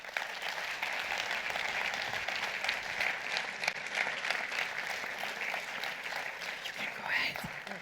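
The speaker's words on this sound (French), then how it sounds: "sous vos applaudissements" Steady applause fills the hall at the award ceremony of the Fribourg International Film Festival, a dense, even clapping from a large audience heard from a distance, fairly faint and sustained throughout.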